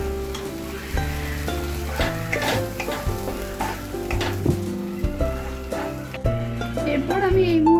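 Boiled spinach paste hits a pan of fried spice mix and sizzles steadily, with stirring scrapes and taps close by under continuous background music.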